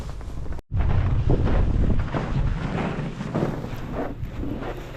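Strong wind at the South Pole in Antarctica buffets the microphone in heavy, rumbling gusts, cutting out briefly near the start before surging back and rising and easing throughout.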